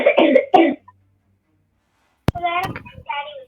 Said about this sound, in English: somebody's got a bad cough